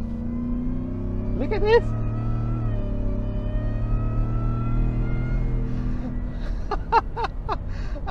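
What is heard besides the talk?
Ford Shelby F150 supercharged V8 pickup engine revving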